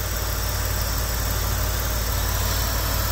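A 1994 Mitsubishi Delica Space Gear van with a 6G72 engine idles in a steady, even drone with a low rumble and no change in pace, heard close up with no one talking.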